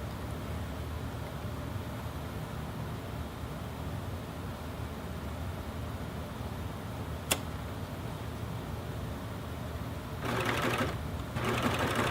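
A Babylock Evolution coverstitch machine stitching a hem on thick jeans fabric, a steady, fast mechanical whir running throughout, with a brief click and a slightly louder change near the end.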